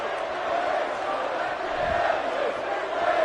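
A video game wrestling arena crowd roars and chants steadily throughout a match, a dense continuous wash of voices that rises slightly toward the end.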